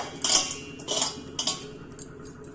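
Spoon scraping and stirring brinjal pieces through rice in a metal pan for Karnataka vangi bath, a few bright scrapes in quick succession, close and moderately loud with no talking.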